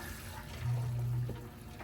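A garden water tap is turned on and water runs briefly with a soft, steady rush, rising for under a second before easing back into faint background hiss.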